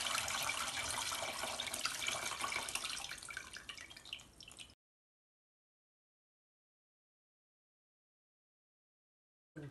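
A homemade citrus multi-surface cleaner pours through a strainer into a salad bowl, making close, steady splashing and trickling for a few seconds before stopping abruptly, followed by silence.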